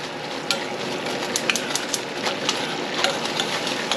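Butter browning into ghee sizzles and crackles in a pan while cooking a Thanksgiving meal: a steady frying hiss with scattered sharp pops and spits throughout, close and fairly loud, with no talking.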